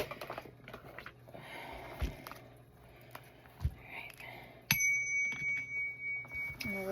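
A small bell is rung once with a sharp strike that leaves a clear ringing tone sustaining and slowly pulsing, following quiet whispery speech and soft handling noises.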